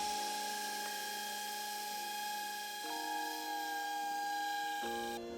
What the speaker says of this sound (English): now I'm using my smaller, it's not an orbital, I guess it's a V-shaped sander to kind of get those corners